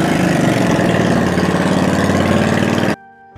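A motorbike engine idles close by in Pakistan, a steady, loud, throbbing putter with a fast even pulse that runs for about three seconds before cutting off abruptly into near silence.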